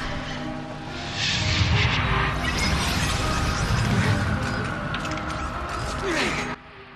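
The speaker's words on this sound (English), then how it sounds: "An elevator gauntlet in the Final Fantasy game?" A moving elevator mechanism in the video game Final Fantasy XIII-2 gives a loud, continuous mechanical rumble and roar that swells after the first second, holds steady, and cuts off abruptly near the end.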